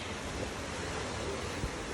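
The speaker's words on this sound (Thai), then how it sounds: "ลมแรงมากเลย" Strong wind buffets a microphone outdoors in a garden with fruit trees and herbs, a steady, loud, broadband roar that holds throughout with slight gusting swells.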